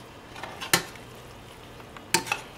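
Cabbage seasoned with spices and fresh ground black pepper being mixed in a pan, two sharp scraping clatters of a utensil against the pan over a faint background sizzle.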